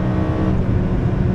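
A modified Lamborghini Huracan STO engine drones steadily on the Nürburgring, a loud, dense, continuous roar heard from inside the car over a brief stretch.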